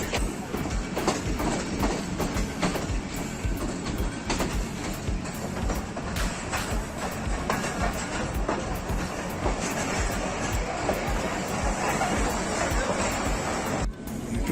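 Millat Express of Pakistan Railways running on rails near Shaheenabad Junction, a steady loud rumble with rhythmic clatter throughout, briefly dipping near the end.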